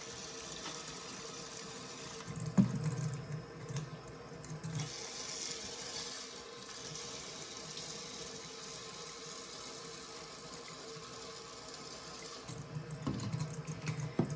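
Running tap water splashes into cups to rinse alfalfa and arugula sprouts, a steady close hiss and gurgle with brief louder pours near the start and end.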